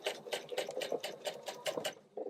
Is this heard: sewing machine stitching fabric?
yes